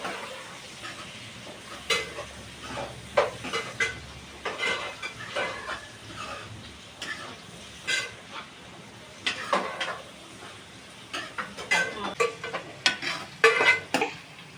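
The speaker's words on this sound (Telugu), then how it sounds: "వేసుకొని ఫ్రై అయ్యేంత వరకు కలుపుకోవాలి" Leafy greens with a pinch of turmeric stirred while frying in a pan, with repeated spatula scrapes and taps against the metal over a continuous sizzle, close and fairly loud throughout.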